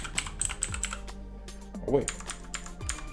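Typing on a small, basic mechanical keyboard with blue switches: rapid, sharp clicky keystrokes in an uneven patter, close and crisp, with a voice briefly saying a word over them.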